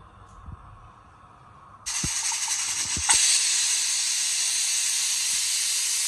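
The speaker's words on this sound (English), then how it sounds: "Steam it for about 2 whistles," Pressure cooker steaming soaked chickpeas under a weighted lid, with a steady loud hiss of escaping steam that starts abruptly after a quiet stretch and grows stronger, running continuously to the end.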